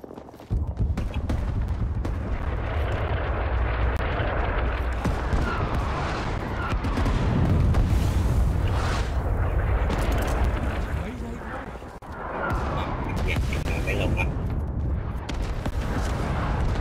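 Artillery strike explosions in the video game Rising Storm 2: Vietnam make a sustained, loud barrage of booms and rumbling blasts mixed with gunfire, with players talking over the din.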